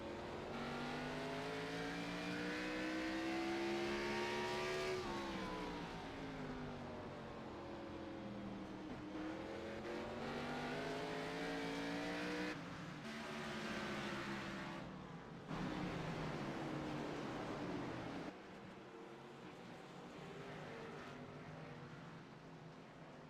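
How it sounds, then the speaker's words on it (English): Race cars lap Martinsville Speedway, their engines a continuous droning whine that rises and falls in pitch with abrupt cuts and shifts as cars accelerate and pass. The sound is fairly faint and has no talk over it. "Enjoy some great racing action here at Martinsville"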